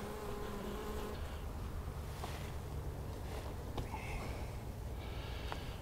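Honey bees buzz around a hive in a bee yard during work with supers and a fume board, a faint, continuous droning hum with a few passing louder buzzes close by.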